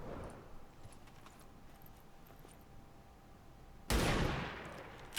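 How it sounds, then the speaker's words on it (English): A sniper rifle shot in the video game XCOM 2 Long War 2 cracks out loud and sudden near the end after a quiet stretch of faint game ambience, then rings and decays over a second. "He gets sniped."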